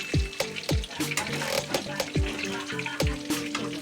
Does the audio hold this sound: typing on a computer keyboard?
no